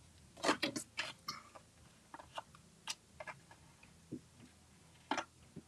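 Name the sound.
cutting paper with scissors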